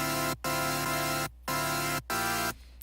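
Supersaw synthesizer chords, thinner and narrower than usual, play as three sustained stabs split by short silent gaps, loud and alone with no voice before the tail fades.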